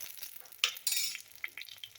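Dried chillies and curry leaves sizzle in hot ghee in a clay pot for a thuthuvalai rasam tempering, with a steady crackling hiss, sharper sputtering bursts, and light stirring scrapes close by.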